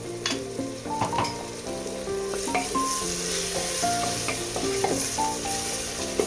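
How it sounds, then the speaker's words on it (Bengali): Onions sizzle steadily in a hot pan for mutton biryani, frying until browned, with occasional scrapes of stirring and a gentle melody playing underneath. "পেঁয়াজ যতক্ষণ না লাল হয়ে যাবে ততক্ষণ আমি ভাজা ভাজা করব।"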